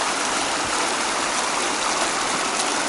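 A river rushing at a hiking river crossing makes a loud, steady broadband roar of flowing water, close and continuous with no talk.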